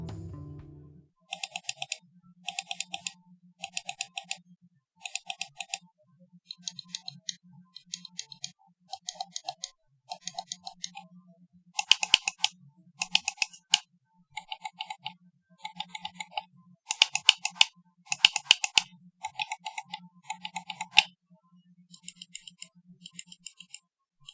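Sharp, crisp clicks from a SteelSeries Rival 100 optical mouse with custom SteelSeries switches come in quick rapid clusters, close and distinct, separated by short pauses, with no talking.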